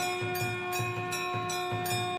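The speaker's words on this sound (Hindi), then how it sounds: "मंदिर की घंटियां जोर से बजती हैं।" Temple bells ring loudly in a steady series of repeated metallic strikes, each leaving a long bright sustained tone that overlaps the next, with no voices heard.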